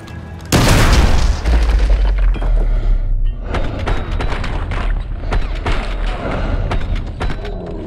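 A breaching charge blows with a sudden loud boom and rumbling low tail in Call of Duty: Modern Warfare 2 Remastered, followed by a scatter of gunshots and impacts with voices in the mix.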